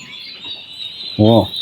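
A turkey chick peeps steadily and high on an Egyptian turkey farm, the thin chirping running throughout, with a short louder harmonic call bursting in near the end.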